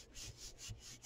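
Paper is rubbed by hand over a gelli plate print in a soft, rhythmic back-and-forth swishing, faint and close, with no voices.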